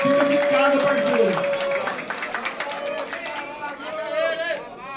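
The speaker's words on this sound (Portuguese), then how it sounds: "Uma salva de palmas aí pro mano, certo?" Crowd at a Brazilian rap battle clapping and cheering for an MC, a dense wash of applause and chatter from a close, lively audience, with a host's voice talking over it.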